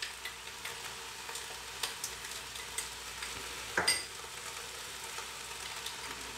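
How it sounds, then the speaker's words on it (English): Spices and garlic for a gammon campfire stew stirred in a pot, a faint steady sizzle with light ticks and scrapes of the spoon and one louder clatter near the middle. "Give that a little mix."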